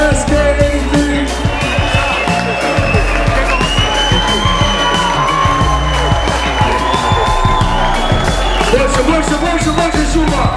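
A large crowd at a Red Bull Thre3style DJ championship cheers, whoops and applauds for the champion DJ, a dense, loud, continuous roar of clapping and shouting that fills the room without a break.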